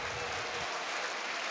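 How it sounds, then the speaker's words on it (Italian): Basketball crowd applauding at the end of an LBA game between Scafati and Dinamo Banco di Sardegna Sassari: dense, steady clapping fills the arena throughout, with no voices. "Applausi"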